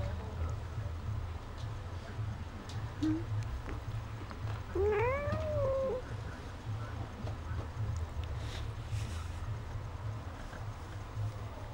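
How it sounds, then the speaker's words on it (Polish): An agitated cat meows close by, a short chirp followed by a longer, rising and falling meow, set against a steady low hum and quiet room noise. "Nie wolno, bo się kotek denerwuje."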